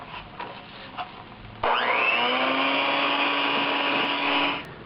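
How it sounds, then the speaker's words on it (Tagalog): An electric mixer starts up and whirs steadily for about three seconds in cake batter with vanilla, a loud, even motor whine with a faint knock before it begins. "Habang hinahalo natin with the electric mixer."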